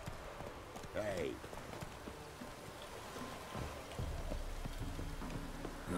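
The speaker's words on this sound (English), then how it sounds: "Looks like rain." Steady rain patters in The Witcher 3, a soft constant hiss with horse hooves clopping and scattered game sounds layered over it.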